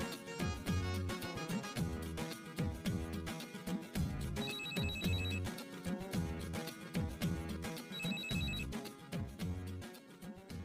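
A telephone rings in a Pakistani drama scene, its repeating electronic ringtone running steadily throughout over a musical backing, loud and close with no talk.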